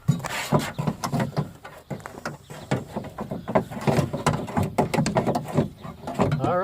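Bolts being started by hand on a replacement window motor assembly inside the door of a 2004 Acura, a run of small metallic clicks, ratcheting and scraping taps close up, irregular and fairly quiet.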